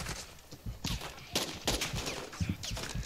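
Gunfire in Call of Duty Warzone DMZ: a scattered burst of sharp shots and impacts over about three seconds, moderately loud and irregular in rhythm, with occasional player voice chat.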